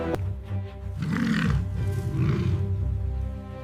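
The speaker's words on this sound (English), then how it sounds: "The sound of that fight, Kito's roar, carries across the marsh" A male lion roars during a fight on a marsh, a deep, rough, sustained roar rising and falling in loud waves over about four seconds, with no talking.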